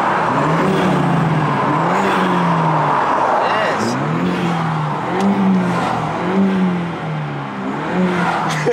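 A BMW F30 328i four-cylinder engine, fitted with budget performance mods, revs up close and loud with a rising and falling whir and growl that repeats through several throttle blips. Voices talk underneath it.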